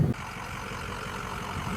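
A Ford 6.0 Powerstroke diesel truck accelerates from a stop at quarter throttle, on stock tuning, with a steady, droning engine note that builds evenly throughout.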